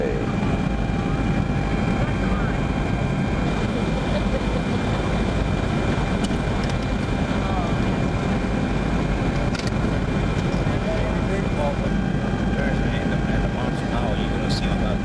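Inside an airplane cabin on approach to San Jose in 1991, a loud continuous low engine and air roar fills the scene steadily, with a voice speaking faintly beneath it.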